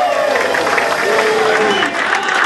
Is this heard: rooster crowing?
no